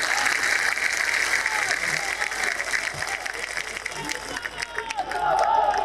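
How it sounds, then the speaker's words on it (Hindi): Large outdoor crowd at a political rally in Gwalior applauding the arriving Home Minister, dense sustained clapping with crowd noise, steady and loud throughout. "तालियों के साथ स्वागत किया गया"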